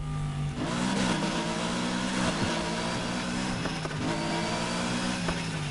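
A car engine in Need for Speed Heat revs up and down repeatedly, rising and falling in pitch, loud and close, with no talking.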